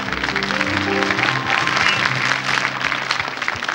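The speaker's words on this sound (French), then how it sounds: "Et j'accueille maintenant notre dernière candidate, mademoiselle Karine, que vous applaudissez." A television studio audience applauds a young girl contestant, Karine, on a 1981 French children's singing show. The clapping is steady and brief, with faint music tones underneath.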